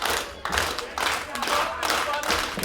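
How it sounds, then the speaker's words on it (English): At a live wrestling match in Campbell River, a crowd keeps up rhythmic, sustained clapping with scattered cheering and thumps, fairly loud and close, while a commentator talks over it. "Crowd riling up big here"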